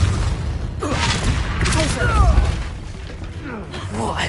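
Incendio fire spell cast in Hogwarts Legacy, a burst of whooshing flame with magical shimmer over steady game action and combat noise, with voices speaking around it.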